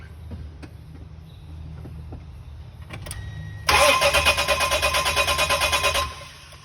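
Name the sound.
Isuzu Rodeo engine cranking over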